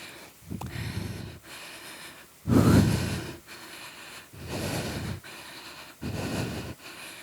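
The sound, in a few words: heavy breathing during a hard cycling workout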